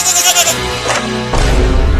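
A cartoon goat bleats loudly in quick repeated cries while running from a wolf, with a dense animated soundtrack underneath.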